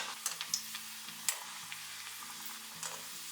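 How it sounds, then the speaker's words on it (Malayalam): Red cowpea vada fry in hot oil over a low to medium flame, giving a steady soft sizzle with occasional faint pops and light clicks. "മീഡിയം ഫ്ലെയിമിൽ വെച്ച്, ലോ ടു മീഡിയം ഫ്ലെയിമിൽ വെച്ചിട്ടാണ് നമ്മളിത് ഫ്രൈ ചെയ്തെടുക്കുന്നത്"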